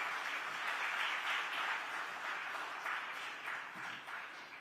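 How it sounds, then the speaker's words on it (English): Applause from the audience at a women's leadership awards ceremony honoring nominees, a steady sustained wash of clapping that stays fairly even, then eases slightly toward the end. "big round of applause for all of you"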